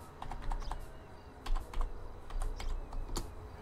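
Someone types on a computer keyboard, light irregular clicks and taps in short clusters, close and fairly quiet with no talking.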